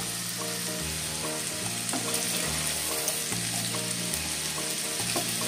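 Potato and vegetable stalk curry sizzles steadily in a frying pan as it is stirred, a loud continuous frying hiss with a repeating low rhythmic pattern underneath and no talking.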